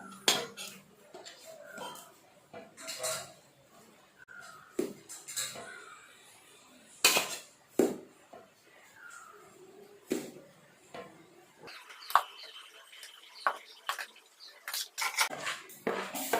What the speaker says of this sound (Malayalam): ഇനിയിപ്പോൾ നമുക്ക് ഈ പൊടി കുറേശ്ശെ അതിലേക്ക് ഇട്ട് കൊടുക്കാം.